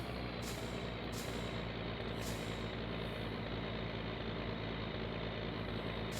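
Gifu truck from the game My Winter Car, a loud, steady diesel engine rumble with three short hisses of air brake release near the start.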